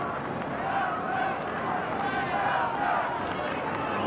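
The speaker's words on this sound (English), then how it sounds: "A mostly contented but somewhat subdued crowd here at Subiaco" Subdued stadium crowd at Subiaco during a 1994 AFL football match between West Coast Eagles and Carlton, a steady low murmur of spectators throughout without sharp cheers.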